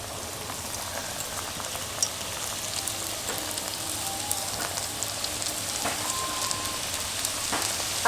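Chicken samosas fry in oil over medium-low heat, giving a steady, even sizzle with small crackling pops throughout, close and continuous with no voices.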